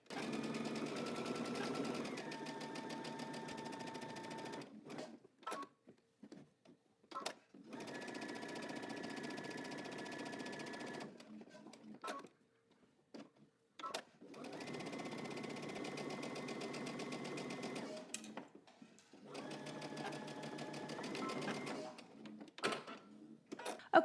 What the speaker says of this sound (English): Now we're going to stitch using 5/8 of an inch seam allowance